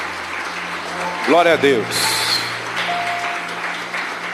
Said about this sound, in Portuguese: Aplauda ao Senhor, que Ele merece.